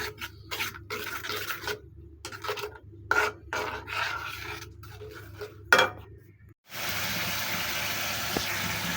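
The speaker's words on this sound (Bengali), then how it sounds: "খুব ভালোভাবে মশলাটা নেড়ে চেড়ে কষিয়ে নিচ্ছি" Spice masala of garlic paste, coriander, turmeric, chili powder and salt is scraped and stirred in a pan for fish curry with lentil dumplings, giving rough rasping strokes in bursts, close and fairly loud, followed by a steady sizzle.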